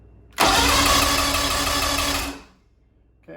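A Mercury outboard engine cranks over with the spark plug removed during a compression test, giving a loud, close, steady whirring churn for about two seconds that then winds down to silence.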